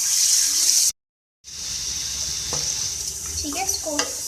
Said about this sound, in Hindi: फ्राई करें